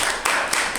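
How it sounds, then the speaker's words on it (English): Audience applause after a reading at a book discussion in a bookstore, a steady wash of many hands clapping at close range for under a second, with no voices over it. "give Matt another round of applause for that"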